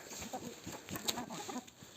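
Chickens in a coop cluck in short, close bursts as they come running, a few overlapping low calls with light scratching over about two seconds.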